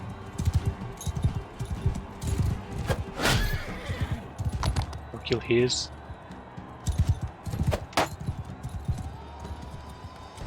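A horse in the Mount & Blade II: Bannerlord game clip-clops in bursts of hoofbeats, with a sharp whinny and metallic jangles, while someone talks over the gameplay.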